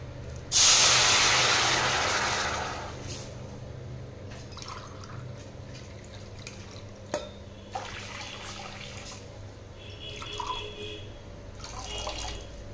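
Water is poured into a hot pan while making semolina laddu, with a loud hiss and sizzle that fades over a few seconds, followed by faint clinks and bubbling.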